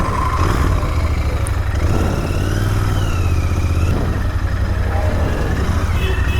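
A Royal Enfield Interceptor 650 motorcycle engine hums steadily while being ridden, a continuous mid-pitched drone with slight pitch shifts as speed changes, close and loud with wind noise.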